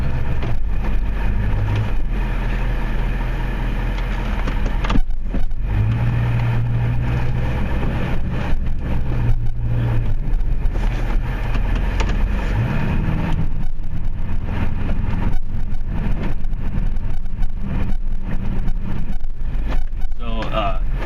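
A Duramax pickup truck pushing snow with a plow gives off a steady, close, low engine drone that rises and falls a little, with someone talking over it for most of the stretch.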